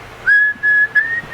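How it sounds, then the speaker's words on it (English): A man in the back seat of a car whistles a short tune, clear, near and alone, in a few bright sustained notes. "and he starts whistling."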